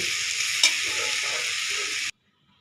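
Bottle gourd leaves with potato frying in a pan, a loud steady broadband sizzle with a stirring scrape near the start, cutting off abruptly at the end, with no talking.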